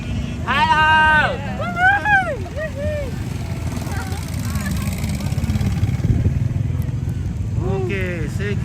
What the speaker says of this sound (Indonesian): Awas motor. Dari belakang motor.